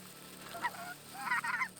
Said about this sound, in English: These snow geese are banking.